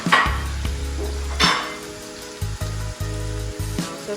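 Vegetables, carrots among them, fry in a pan for pineapple rice, giving a steady sizzle with a low hum underneath and a few sharper clattering stirs. No one speaks.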